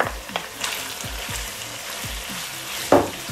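Sliced mushrooms fry in a pan for a beef lasagna, making a steady, soft sizzle broken by regular scraping strokes of stirring and one sharper clatter near the end.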